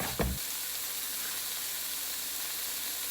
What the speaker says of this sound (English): melt a little more butter and dump your onion in there